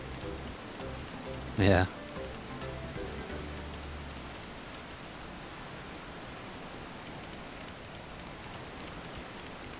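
Steady rain hisses throughout a scene in the video game Final Fantasy XIV, a soft continuous wash with a short spoken word near the start.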